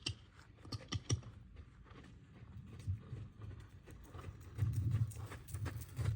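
A horse moving around an arena, with repeated clip-clop hoofbeats at a steady gait and some creaks of tack, fairly close and a little louder toward the end, with no talk.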